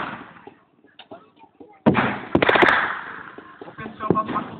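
Gunfire at a Germans-versus-Soviets battle reenactment in Sedlnice, from a Mark 36, with a few light pops followed by a loud sharp shot and a quick second blast that echo out, then scattered smaller reports.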